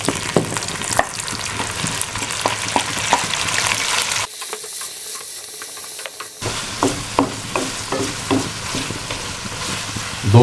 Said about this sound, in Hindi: दो मिनट के लिए टमाटरों को फ्राई करते हैं।